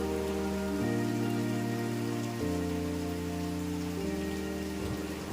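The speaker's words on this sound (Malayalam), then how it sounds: "ഇങ്ങനെ ഒരു മഴക്കാഴ്ച ആസ്വദിക്കാൻ ആഗ്രഹിക്കാത്തവർ ആരാണ്?" Rain falls at the Falcon Crest resort in Vagamon, Kerala as a steady, dense hiss, while soft sustained musical tones shift slowly underneath throughout.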